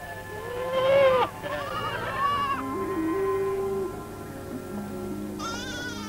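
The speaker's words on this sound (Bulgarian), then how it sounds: "Овцете родиха черни агнета." Several sheep bleat close by, wavering cries in short bursts, one loud call early and others following, over a low background drone.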